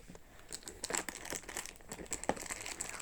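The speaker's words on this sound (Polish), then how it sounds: "Jest dzisiaj siódmy i chciałam z Wami otworzyć kalendarz adwentowy, dlatego otwieramy" Paper crinkling and tearing as a door on an advent calendar is opened, close and fairly quiet, continuous rustling for a few seconds without speech.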